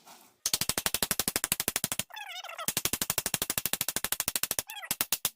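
Rapid-fire metallic hammering pounds in two long bursts as a punch drives a detent sleeve into a BMW ZF transmission, with brief squealing whines between the bursts.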